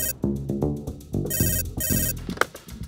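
A telephone ringtone plays a bright, melodic electronic pattern in repeated bursts, fairly clear and alone with no talking.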